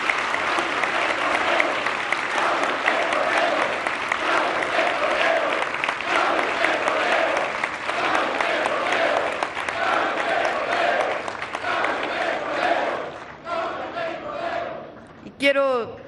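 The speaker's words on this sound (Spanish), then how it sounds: "Un aplauso grande a las y los trabajadores de Pemex" A large audience at a public event in Mexico gives Pemex oil workers loud, sustained applause mixed with cheering. It fades near the end, and a voice then breaks through.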